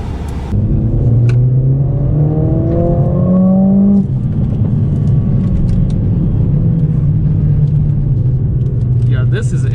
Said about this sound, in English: This is a brand new CLA 45 AMG.